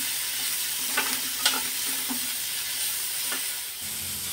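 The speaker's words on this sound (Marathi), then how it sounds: "थोडेसे लालसर होईपर्यंत आपण हे कांदे परतून घेणार आहोत।" Salted onions sautéing in a pan for matar paneer, a steady soft sizzle of frying with occasional scrapes and stirs of a spatula, close up and without speech.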